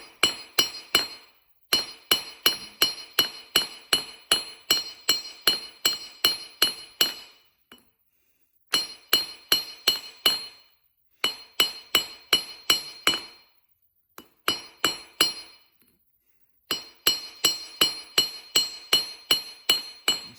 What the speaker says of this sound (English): keep hammering one side,